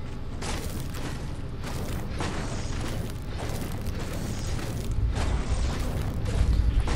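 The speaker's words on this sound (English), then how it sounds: "Nice nades." Grenade explosions in the Fortnite video game, a series of heavy booming blasts over several seconds with dense rumbling debris, fairly loud and without talk.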